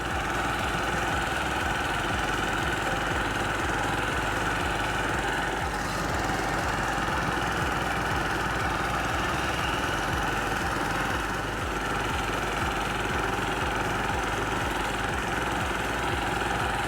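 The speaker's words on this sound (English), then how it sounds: "So we'll get a mow on now, and we'll see what we're dealing with." A lawn mower runs continuously while cutting a TifTuf grass lawn, a steady, loud, close engine drone with constant vibration and no talk.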